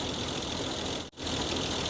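A 1960 Pontiac wagon that sat unused for 34 years idles with a loud, steady engine rumble that briefly dips for a split second before resuming.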